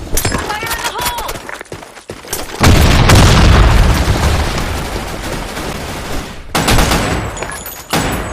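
A grenade explosion in the video game SandStorm II, a loud sudden boom with a long rumbling tail, a second blast following near the end among other gunfire-like game noises.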